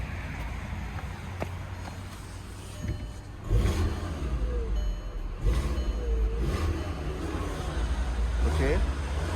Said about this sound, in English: I'm gonna give you a couple of revs and see if something comes out.